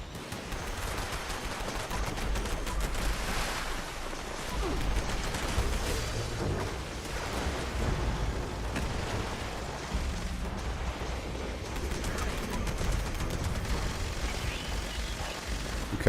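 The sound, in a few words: artillery strike from video game Fallout 76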